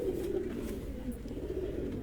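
Pigeons of a big-bodied, thick-headed hardy breed coo steadily in a loft, a low continuous murmur from several birds close by with faint background noise.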